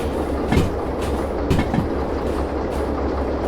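A train rolls slowly at idle speed in the Derail Valley simulator, with a steady low rumble and a few soft rhythmic wheel clacks over the track joints.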